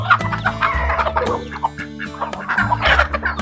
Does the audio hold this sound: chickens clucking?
yes